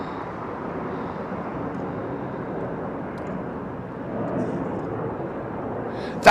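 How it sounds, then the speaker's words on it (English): An Embraer jet airliner departs Heathrow with a loud, steady broadband engine roar that holds constant throughout and swells briefly near the end. "Nice Embraer going out."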